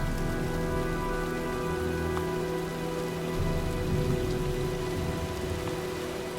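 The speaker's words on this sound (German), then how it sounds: "Das sieht nach einem Sturm aus." Heavy rain pours during a storm in the video game Heavy Rain, a continuous dense patter on surfaces with a low steady rumble and no voices.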